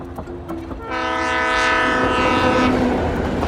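A passenger train sounds its horn as it passes, a loud sustained multi-tone blast starting about a second in and holding over the rumble of the rail cars, with no voices.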